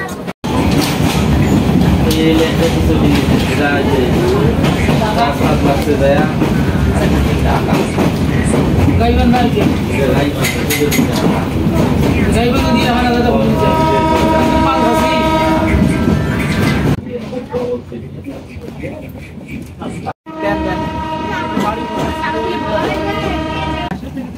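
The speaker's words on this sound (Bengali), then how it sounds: "তাহলে যেহেতু লোকাল ট্রেনে যাচ্ছি" A local train in Bangladesh rattles loudly along the tracks with rhythmic clatter and a horn, while people talk nearby over the steady rumble.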